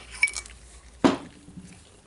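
A small metal washer is set onto the 1/2-inch square anvil of a Milwaukee nutgun during regreasing, giving two light, close metallic clinks about a second apart over faint room noise.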